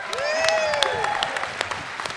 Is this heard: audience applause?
yes